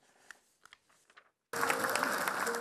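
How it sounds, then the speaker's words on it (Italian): A full audience at the Teatro Savoia in Campobasso bursts into loud, dense applause after a book presentation, starting abruptly after a short stretch of faint, quiet sounds and then continuing steadily. "Applausi scroscianti, un teatro Savoia pieno."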